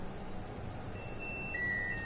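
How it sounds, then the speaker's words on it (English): The second safety alarm in the video game Train Sim World 5, heard as short, fairly faint electronic beep tones near the end over a quiet cab hum, with no talking. "We're going to wait for the second safety alarm"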